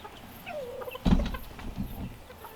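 Soft, scattered clucks from a hen with a brief louder burst of shuffling partway through, against a quiet background.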